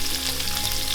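Cooked sausage sizzling in a pan over medium-low heat as all-purpose flour goes in, a dense, continuous close-up crackle and hiss with stirring.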